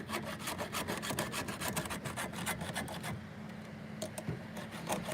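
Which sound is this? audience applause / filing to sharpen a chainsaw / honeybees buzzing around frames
filing to sharpen a chainsaw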